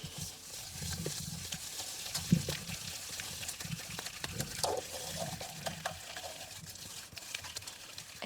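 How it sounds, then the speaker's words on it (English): Keto salted caramel mixture with Ceylon cinnamon being stirred in a pan, a steady wet scraping and bubbling swirl that runs close and continuous throughout, with a brief clunk partway through. "I'm just going to go ahead and stir that up."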